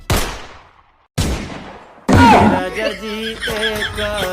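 Soldiers' guns fire in a comedy sketch: two sharp, decaying shots about a second apart, then a louder blast followed by a ringing, tonal tail with a voice mixed in.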